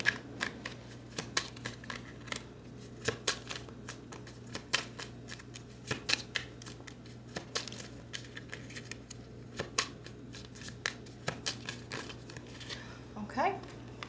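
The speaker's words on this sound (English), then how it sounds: "Give it a good shuffle here" Tarot cards being shuffled in quick riffling bursts, a steady crisp patter of snaps repeating throughout, close by over a low constant hum.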